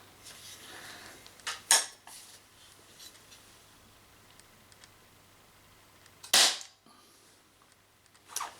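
An Artemis LP400 air pistol fires a pellet in a quiet room: a sharp, loud crack stands out alone, preceded by a smaller click, with faint handling noise in between.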